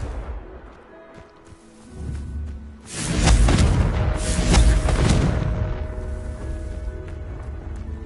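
A Confringo fire spell explodes in the Hogwarts Legacy video game, a deep rumbling boom that swells loudly after a quieter buildup and then trails off into a lingering roar.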